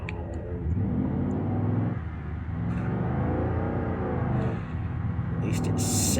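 A big V8 car engine revving in the BeamNG driving game, a loud continuous throaty rumble that swells and dips over several pulls, with brief faint clicks on top.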